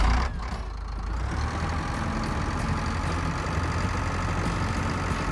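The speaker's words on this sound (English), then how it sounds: "And we'll also take the big tractor for that." A big tractor's heavy diesel engine drones at a steady idle in Pure Farming 2018 set in Montana, a low continuous rumble with faint mechanical whine, loud and unchanging throughout.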